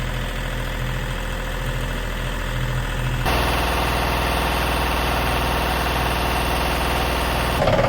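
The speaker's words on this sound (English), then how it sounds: "So we got the engine running, but it seems like the heat exchanger is leaking" Catamaran engine idling with a leaking heat exchanger, a steady close mechanical drone with rhythmic knocking that shifts pitch and grows rougher partway through.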